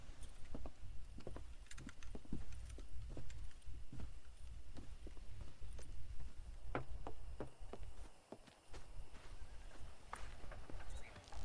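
Horse hooves clip-clop steadily on the ground in the Western video game Red Dead Redemption while horses are being wrangled, with sharp, rhythmic thuds at mid distance over low ambient rumble.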